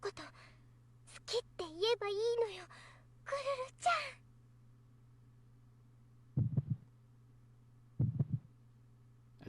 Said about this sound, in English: That's a very strong heartbeat.